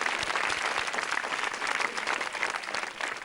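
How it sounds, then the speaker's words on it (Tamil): Studio audience on a Tamil children's game show clapping steadily, a dense, even wash of applause lasting the whole few seconds with no talk over it. "கைத்தட்டி டக்குன்னு கைத்தட்டி."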